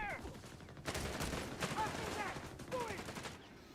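Machine gun fire in a Company of Heroes 3 match rattles in rapid bursts at a moderate distance, mixed with other battle noise and voices talking over it.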